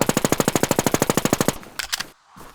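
A machine gun fires a fast, loud, regular burst of about twenty rounds during an online shooter match, followed by a few scattered shots and then quiet.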